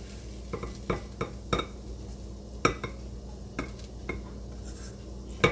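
Leftover roti being sauteed and stirred in a pan, with a quiet, steady sizzle under sharp, irregular clinks and scrapes of the spoon against the metal, close by.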